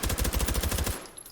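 A suppressed H&K MP5K fires a rapid full-auto burst in the H3VR virtual reality shooter, roughly a dozen quick muffled thumps in an even rhythm lasting under a second, then a short fading tail.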